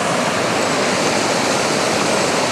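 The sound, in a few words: small river flowing from a drained pond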